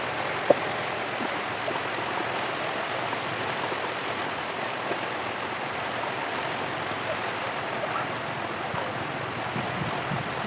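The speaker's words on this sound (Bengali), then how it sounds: "মুষলধারে বৃষ্টি হচ্ছে।" Heavy, pouring rain makes a dense, unbroken hiss that stays constant throughout, with no voices over it.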